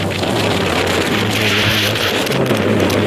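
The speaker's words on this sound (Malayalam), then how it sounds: "കാറ്റും മഴയും അനുഭവമായിരുന്നു." Strong wind buffets the microphone with a steady roar, and rain hisses underneath, loud and continuous with no voices.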